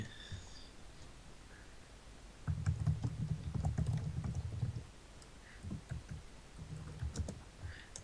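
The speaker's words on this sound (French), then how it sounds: "T'entends pas trop le bruit de mon clavier?" Soft, rapid clicking of keys being typed on a computer keyboard, in short bursts with pauses between, fairly close and moderately quiet.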